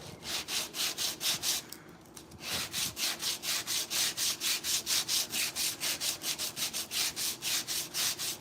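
Hand sanding the carved wooden mane of a handmade rocking horse, with rapid rhythmic back-and-forth rasping strokes, close and steady, pausing briefly before resuming.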